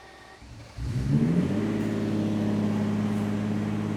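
A Lamborghini Diablo's engine starts and revs after sitting for fourteen years, a deep, loud rumble that swells sharply and then settles into a steady, rising drone with no talk over it.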